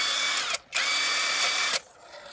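Power tool spinning to undo a bolt on a Renault 1.5 dCi engine, a loud steady whine in a burst, a brief pause, then a second longer run before stopping; no talk.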